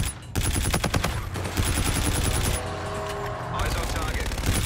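Rapid automatic gunfire rattles in Call of Duty: Infinite Warfare, with bursts of shots repeating loudly over several seconds amid game effects.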